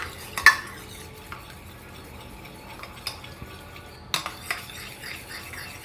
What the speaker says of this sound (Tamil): அது தயிர் எல்லாத்தையும் சேர்த்து நல்லா மிக்ஸ் பண்ணிவிட்டு பருப்போடு கலக்கணும்.